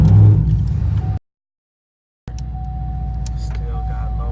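A Chevrolet Camaro SS out on a cruise gives a steady, loud low engine rumble and road drone that cuts out for about a second midway, then resumes evenly.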